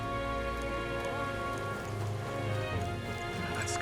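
Rain in the video game Metaphor: ReFantazio, a steady hiss of falling rain on surfaces set against sustained, layered game music that carries throughout at moderate volume.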